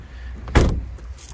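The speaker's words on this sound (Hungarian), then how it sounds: "Hogy csukjam be az ajtókat" A door of a Ford Mondeo 2.5 turbo Ghia coupe is shut in one loud, solid thump up close, followed by a faint after-rattle outdoors.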